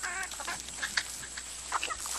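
Hens from a battery farm in the Somme clucking softly in a cluster, with several short overlapping calls over a quiet, hissy background.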